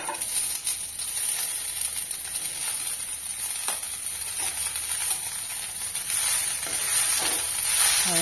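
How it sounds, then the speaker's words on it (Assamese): Cooked rice for a butterfly pea flower pulao being stirred and mixed in a hot pan, with a steady close sizzle and hiss and occasional scraping of the utensil against the pan. "আৰু গোটেইখিনি মই ভালদৰে মিক্স কৰি লৰাই দিম।"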